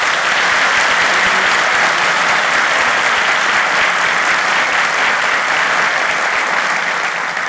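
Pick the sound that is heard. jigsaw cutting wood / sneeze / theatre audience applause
theatre audience applause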